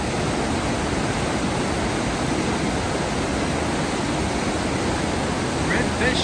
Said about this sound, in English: It's the creek, or creek, that you've been hearing all along the trail.